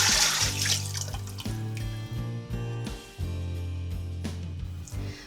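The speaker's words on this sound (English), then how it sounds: "we've soaked all the nice drippings from the rabbit baking pan and we're going to pour it into the pot" Rabbit drippings soaked from a baking pan are poured into a cooking pot in a dry cabin, a steady liquid stream splashing continuously for several seconds with a low constant hum underneath.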